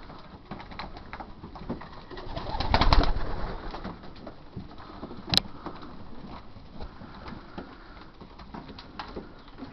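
Young racing pigeons eating barley from a hopper, with soft cooing and low murmuring, a brief louder flurry of movement near the start, and a faint sharp knock a couple of seconds later.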